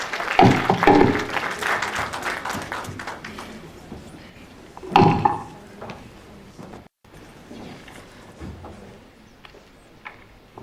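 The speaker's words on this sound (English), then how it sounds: "A round of applause, please." Audience applause at a health forum conference hall: a burst of clapping that fades, then a second swell of applause before dying away into quiet room noise.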